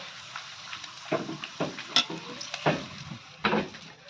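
Papad frying in hot oil: a steady crackling sizzle with soft stirring scrapes and light pan knocks, close and fairly quiet, with no talk.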